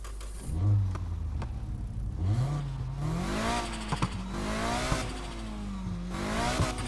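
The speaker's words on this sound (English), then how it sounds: "with the inline you can hear the turbo, you can hear it spool" A Need for Speed Heat car's inline engine revs up and down repeatedly, its pitch climbing and falling in waves with a faint whistling turbo spool, loud and close.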